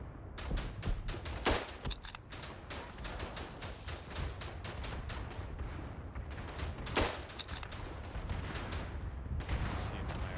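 Dense gunfire and artillery from a World War I trench battle in the game Verdun, with rapid rifle and machine-gun bursts and heavier booming impacts sounding continuously and loudly through the whole stretch.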